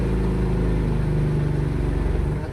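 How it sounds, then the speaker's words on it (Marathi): A car engine labours uphill in third gear on the Tamhini Ghat in the rain, a loud, steady low drone with a rough pulsing throb, close and continuous. "आता गाडी बघा 3ऱ्या गिअरवरती पण गाडी चढत नाही."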